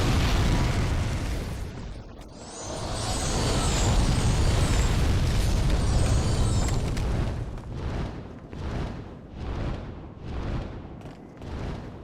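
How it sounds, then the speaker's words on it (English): A dragon breathes fire in Demon's Souls on PS3: a long, loud roaring blast of flame that swells and holds for several seconds, then breaks into a run of rhythmic whooshing bursts as it fades. "Breathe your fire."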